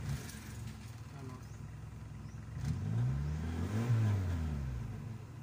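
A Kia Pride car engine revs under throttle, rising from a steady idle into a louder mid-pitched surge that swells and falls back, close by, while a voice speaks faintly underneath.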